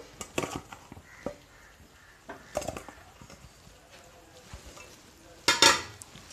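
Chicken, spices and small chopped potatoes are stirred and fried in a pan for a chicken curry, with a low sizzle under scattered scraping and clinking strokes and one louder burst of utensil clatter near the end.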